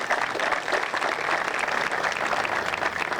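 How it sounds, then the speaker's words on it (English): A crowd at a park grand opening claps in a loud, continuous round of applause, with many hands blending into a dense wash throughout. "Let's give Ernie Hahn, please, a warm round of applause,"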